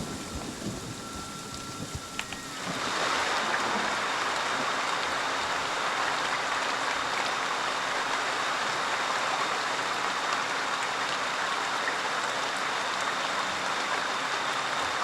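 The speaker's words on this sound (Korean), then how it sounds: "비가 오니까 진짜 안 보인다" Steady heavy rain pours down in a Friday the 13th: The Game match, a dense unbroken hiss that swells in after a couple of seconds and fills the scene loudly without pause.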